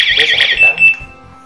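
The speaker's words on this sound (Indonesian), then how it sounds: "Dia akan men-trigger untuk alarm ini berbunyi." An Ozon smart siren, set off by its motion sensor, blares a loud shrill warbling alarm tone for a moment before cutting out, with a voice speaking alongside it.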